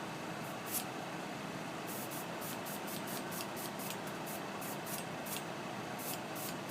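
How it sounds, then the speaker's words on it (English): Spray paint hissing in light misting coats for a rusting finish, a series of short quick bursts over a faint steady background hiss, close and fairly quiet, with no voices. "Just want real light mist coats here and there."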